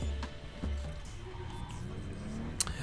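A car drives in Cyberpunk 2077 running on an Xbox Series X, its engine a steady low rumble with road noise throughout and a brief sharp click near the end.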